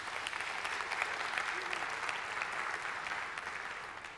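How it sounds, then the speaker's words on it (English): Sustained applause from a conference audience at a Bitcoin SV event, a dense, even wash of many hands clapping that holds steady for several seconds. "So please give yourself a huge round of applause."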